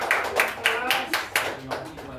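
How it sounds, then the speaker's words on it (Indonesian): Audience clapping at an Indonesian group discussion, heard as a handful of sharp, evenly spaced claps that fade out over about two seconds. "Boleh tepuk tangan."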